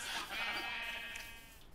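Sheep bleat in a blocky building video game: one wavering, drawn-out bleat with a nasal tone, moderately loud and on its own.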